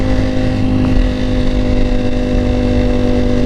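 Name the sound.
motorcycle engine revving while riding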